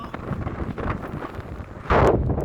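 Wind gusts across an outdoor college campus, buffeting the microphone with a steady rushing noise before a louder, harsher blast near the end; no voices.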